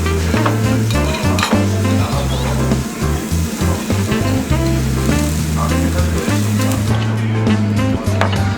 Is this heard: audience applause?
no